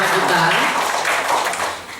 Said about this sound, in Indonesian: Beri tepuk tangan ya Maria untuk pembicara kita